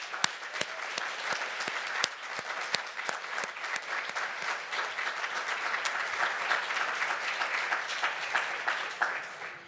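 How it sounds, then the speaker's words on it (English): Sustained audience applause fills a 2021 SUNY Adirondack commencement ceremony, a dense steady wash of many hands clapping with sharper individual claps standing out, loud and continuous throughout. "Let's give them a round of applause."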